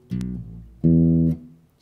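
Two short, detached bass guitar notes plucked staccato for a song, each clipped off with a gap of silence between them, close and clear.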